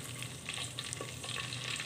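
Whole spices for handi chicken (cinnamon, black cardamom, stone flower, mace, cloves, black pepper and cumin) fry in hot oil, giving a steady close crackling sizzle that runs unbroken, with no voices.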